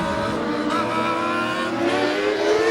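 Stock cars race around Midvale Speedway, a dirt-to-asphalt oval, with loud, steady engine roar and shifting harmonic whine as several cars pass close by, no talk.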